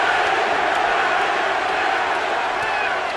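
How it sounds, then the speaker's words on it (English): A boxing arena crowd at a middleweight fight roars continuously with a chant rising from the stands, a dense loud wash of many voices with no single speaker standing out. "Crowd begins to chant, Pavlik, Pavlik, Pavlik."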